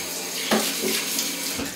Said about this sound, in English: We'll rinse our hands off a little bit there.